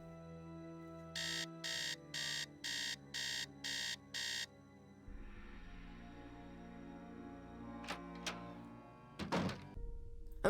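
Alarm clock in a Nancy Drew video game, seven evenly spaced electronic beeps ringing loud and close, then a hum of game ambience with a few soft knocks and clunks.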